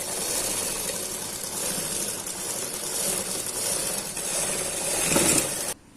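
A sewing machine stitches a half-inch seam around a blouse sleeve, a steady mechanical whirr and clatter running continuously before cutting off abruptly near the end.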